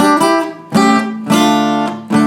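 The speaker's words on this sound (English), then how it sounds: "There's another little riff you can throw in after the second line of the verse" A guitar plays a short repeated riff with a hammer-on from a song, strummed notes ringing in three or four bursts, close and clear, with no one speaking.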